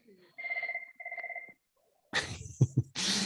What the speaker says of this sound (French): Il y a un téléphone qui sonne là.